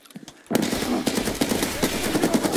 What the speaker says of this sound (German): Die schießen ja schon wieder alle wild durcheinander.